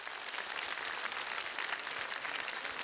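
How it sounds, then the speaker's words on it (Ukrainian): Steady, dense crackle of many hands clapping together, a continuous wash of applause from a crowd at a beauty pageant grand final in an opera house, with no pauses. "Ваші оплески."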